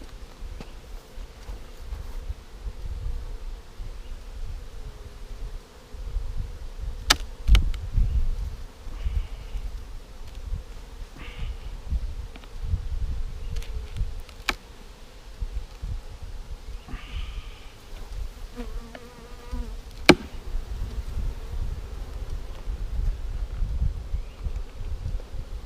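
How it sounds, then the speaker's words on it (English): Honey bees buzz around a two-deep beehive colony after being smoked, a continuous close drone with individual bees zipping past the microphone and faint rustling from hive handling outdoors. "So I have smoked these bees."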